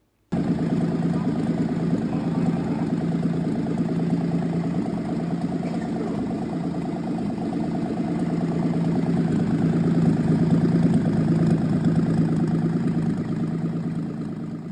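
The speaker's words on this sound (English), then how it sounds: "Just listen to this little Pinto neigh." Rebuilt engine of a 1977 Ford Pinto wagon idling steadily nearby, an even low hum with a slight swell midway and no voices.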